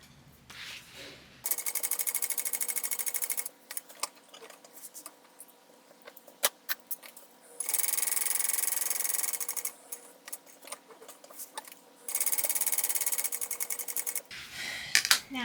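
A sewing machine stitches down the sides of a medium school backpack in three loud, steady bursts of rapid needle clatter, separated by quieter pauses with small clicks and handling noises.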